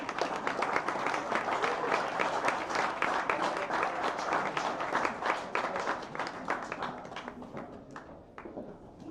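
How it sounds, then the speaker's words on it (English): An audience at an Astronomy on Tap science pub night in Bonn applauds the quiz winner, a brisk crowd of hands clapping steadily before thinning out and tapering off near the end. "Give a round of applause for the quiz winner."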